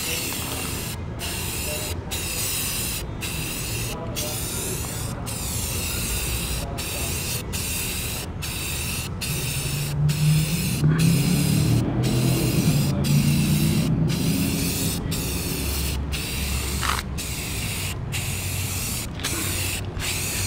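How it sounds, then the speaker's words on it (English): Spray gun coating a hot rod's body straight over welds and dents, a steady continuous hiss running throughout, close and loud, swelling slightly in the middle with faint mechanical noise beneath. "We just paint right over the welds and right over the dents and everything else"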